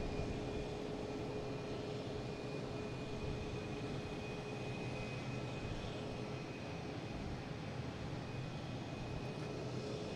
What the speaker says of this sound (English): what do we have taking off next? We have American Airlines heading to Columbus